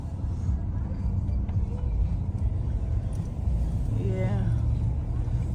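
A construction vehicle works through a heavy snowstorm with strong wind, making a continuous low rumble that fills the scene, while someone briefly speaks over it.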